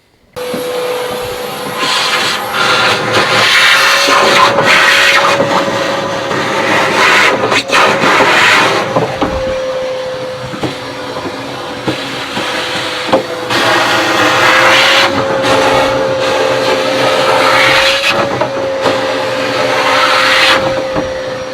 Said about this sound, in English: So let me get the vacuum and I'll get this out.